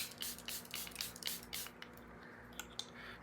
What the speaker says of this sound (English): And then last but not least, setting spray.